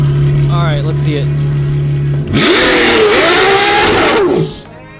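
A Lamborghini Murcielago converted to rear-wheel drive holds a standing burnout, its engine surging high and sustained for about two seconds with tire noise, following an idling hum; voices talk nearby beforehand, loud and close.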